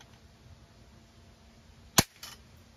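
A Bug-A-Salt pump-action salt gun fires once, a single sharp snap near the middle, followed by a faint rattle as the salt scatters; the rest is quiet room tone.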